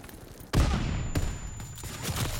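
Call of Duty WW2 shotgun firing flaming shells: a sudden loud blast kicks in after a short quiet lead-in, followed by a second sharp report and a few softer shots and rumbling battle noise.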